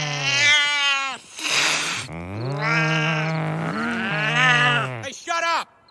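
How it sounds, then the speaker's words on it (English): Cartoon cats yowl and caterwaul loudly in a Family Guy turf-war scene, with long, wavering, strained cries in several bursts and a short hissing spit between them, close and continuous for several seconds. "he got in a turf war with that cat"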